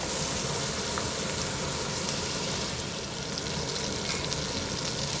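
Spices and masala for a Bengali rui fish curry frying and being stirred in a pan, a steady dense sizzle running through the whole stretch at an even, close level, with no talk.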